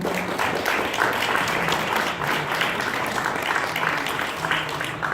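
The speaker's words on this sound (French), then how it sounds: "Une bonne main d'applaudissements." An audience at a radio station's launch party in Toronto claps in a sustained, fairly loud round of applause, dense and even from start to finish, with faint voices murmuring underneath.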